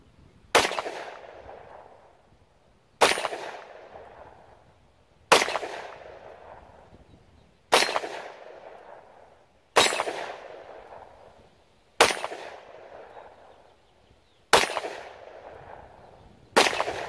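Kel-Tec P11 pistol fired during break-in shooting: eight sharp, loud shots spaced about two seconds apart, each with a decaying ringing tail, no voices.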